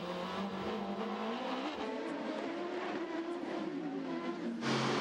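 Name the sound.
race cars, Porsche, driving around Long Beach circuit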